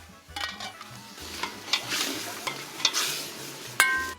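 Mutton searing in aromatic spices over high heat for a Kashmiri wazwan feast, a steady sizzle with scraping stirs and occasional clanks of a metal pot, moderately close and without speech.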